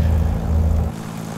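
Carenado PA-44 twin-engine piston plane in Microsoft Flight Simulator 2020, taxiing on one engine: a loud, steady low propeller drone with a droning rumble that eases slightly partway through.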